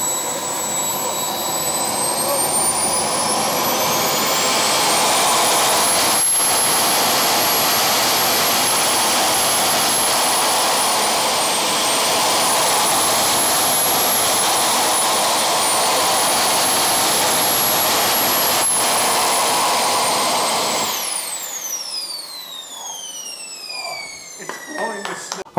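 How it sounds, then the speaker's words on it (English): A Sweetwind turbine jet engine on a BVM 1/5 scale F-16 RC jet, held back on the ground: a loud sustained roar with a piercing whine that rises and falls slightly, then spools down into a falling whistle with outdoor noise. "Lots of power from the Sweetwind engine."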